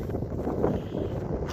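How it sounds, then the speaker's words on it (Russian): Strong northern wind in Abez, roaring as a steady, dense rush that buffets the microphone close up, with no talking over it. "Жуткие ветрища. Северный,"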